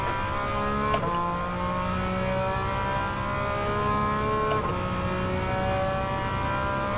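Race car engine in Gran Turismo 7 holding a steady, droning rev under throttle, with two brief pitch dips as gears shift, loud and continuous with no talk.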